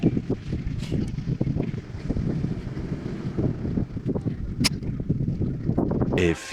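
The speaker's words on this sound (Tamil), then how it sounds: "காற்று நல்லா வருது." Strong wind buffets a microphone on an outdoor ride near a scenic viewpoint, a steady low rushing roar with gusty fluctuations filling the whole stretch, with no voices over it.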